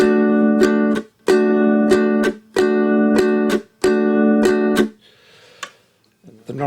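Ukulele strumming a rhythm slowly, five bright chord bursts each made of quick repeated strokes with short gaps between, loud and close, ending in a soft fading ring.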